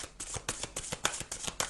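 Tarot cards are shuffled close by in quick rhythmic riffles, about a dozen crisp flutters in under two seconds, with no voices.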